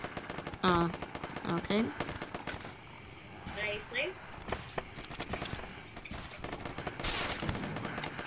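Rapid gunfire in Zombs Royale zombies mode, bursts of shots fired at zombies outside a house, moderately loud and mixed under near-constant talk between two players.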